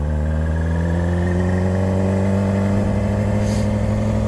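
A 500cc motorcycle pulling away in a practice lot, its engine note climbing steadily in pitch as it gains speed, loud and close with no talk.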